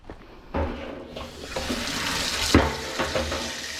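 Water from a garden hose pours into a pot outdoors, a steady rushing splash that swells and shifts in tone as the pot fills, close by with no talking.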